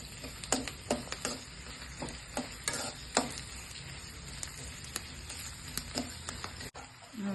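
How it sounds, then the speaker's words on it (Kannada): Spinach chutney ingredients frying in a pan until lightly reddened, a low continuous sizzle with scattered light ticks and taps of stirring, fairly quiet. "ಸ್ವಲ್ಪ ಕೆಂಪು ಫ್ರೈ ಆಗಬೇಕು."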